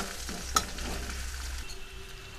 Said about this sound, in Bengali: কড়াই বসিয়ে আমি একটু জিরে ফোড়ন দিয়ে দিলাম, কোঁচানো পেঁয়াজ দিয়ে দিলাম, দুটো কাঁচা লঙ্কা দিয়ে দিলাম। পেঁয়াজটা ভালোভাবে ভেজে নেব।